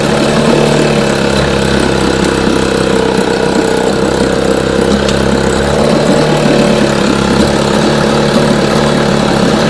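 A two-cylinder outboard motor that is misfiring and smoking idles loudly and close, giving a steady low rumble with an uneven, lumpy pulse.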